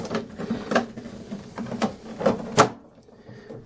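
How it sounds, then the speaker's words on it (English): Plastic printer cover clicked and pressed into place on a Casio SE-S3000 cash register, several sharp plastic snaps and knocks close up, ending in quiet. "We can now put the printer cover back on"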